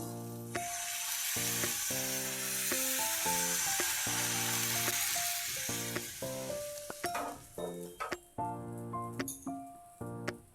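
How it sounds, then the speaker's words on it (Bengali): Mango patishapta batter sizzles steadily in a pan greased with a brinjal stem and turned with an areca husk over medium flame. The frying is close and continuous, with clinking and scraping of the utensil against the pan, louder toward the end. "মিডিয়াম ফ্লেমে 2টো পিঠই হালকা লাল করে ভেজে নিচ্ছি"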